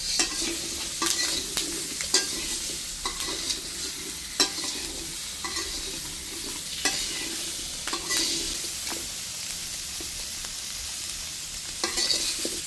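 Potatoes fry in a pan with salt and turmeric, a continuous soft sizzle broken by repeated scraping stirs at a fairly regular pace. They sit close and alone, with no talk.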